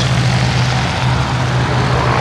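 A Douglas Dakota twin-engine propeller aircraft with 1,200 horsepower per engine passes at an air show at Shuttleworth, a loud, steady droning roar with a low engine hum throughout, no talk.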